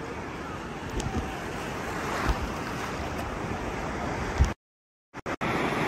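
Ocean surf breaks at a beach with a continuous washing roar and strong wind buffeting the microphone, cut by a brief dropout near the end.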